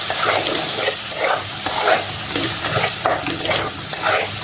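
Spice paste of ginger, turmeric, chilli, coriander and cumin sautéed in a pan: a loud, close sizzle broken by rhythmic scraping strokes about every half second, no talking.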